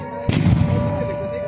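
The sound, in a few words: explosion during air raid drill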